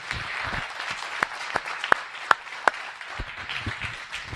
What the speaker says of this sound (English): Big round of applause for Al and the team here at Matheson